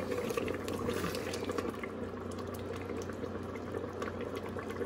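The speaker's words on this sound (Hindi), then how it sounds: "गोश्त अब सही है, थोड़ा पानी सूखे, अभी भी पानी था।" Aloo gosht, a meat and potato curry, simmers in water on a stove, giving a soft continuous bubbling and low burbling with a steady hum underneath.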